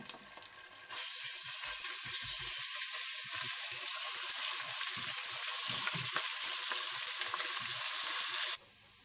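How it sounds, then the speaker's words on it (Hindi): Ground ginger and garlic fry in hot oil with a steady, loud sizzle and hiss, with soft stirring scrapes and pops underneath. "इसमें आप पिसा हुआ अदरक लहसुन डाल दें और इसे थोड़ा सा भून लें।"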